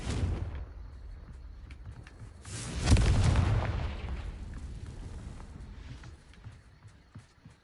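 A Confringo blasting spell cast in a magic video game, a loud booming blast that swells midway and rumbles on with crackling debris over a steady low background.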